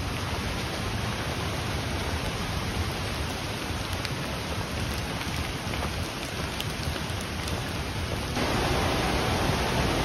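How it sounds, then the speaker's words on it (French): Steady rain falls on foliage during a hike to tropical basins on Réunion island, a dense, even hiss that fills the whole stretch without pause, close and loud with no voices. "je vous laisse écouter le son de la pluie sur les feuillages"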